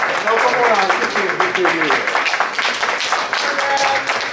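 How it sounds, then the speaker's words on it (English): An audience at a conference panel applauds, a continuous round of clapping with close individual claps audible and voices speaking throughout. "give Jacoby a round of applause because he put that there"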